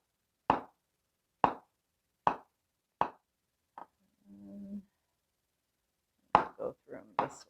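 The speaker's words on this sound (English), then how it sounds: "I'm going to thinly slice our mushrooms." Knife thinly slicing cremini mushrooms on a cutting board: four crisp, evenly spaced chops, then a softer fifth, followed by a brief low scrape and a rapid cluster of closer, quicker cuts.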